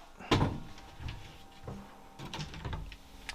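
A hotel room mini bar drawer is pulled open with a sharp knock and rattle, followed by softer clunks and shuffling of objects inside, close and fairly loud in a quiet room.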